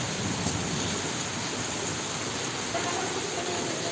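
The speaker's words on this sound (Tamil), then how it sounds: "திருவொற்றியூரில் தான் சரியான மலை சரியான மழை பெய்யுது பாருங்கள்" Heavy rain pours steadily over a rooftop terrace in Thiruvottiyur, Chennai, a dense, even hiss with no let-up, loud and close throughout.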